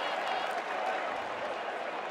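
Fans in a college football stadium at a Boston College versus Missouri game give a brief burst of loud, broad crowd roar and clapping, a dense steady wash lasting about two seconds.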